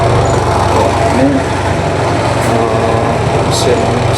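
Spin motor of an AQUA QW950XT twin-tub washing machine running, a steady low motor hum with a faint rattle throughout, close by, while someone talks over it.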